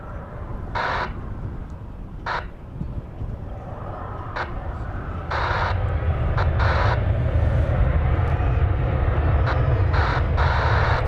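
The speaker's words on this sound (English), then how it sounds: "There is a plane taking off." An American Airlines Boeing 737-800 takes off at DFW Airport: a distant, broad jet roar swells about halfway through and then holds steady, with short sharp sounds breaking in now and then.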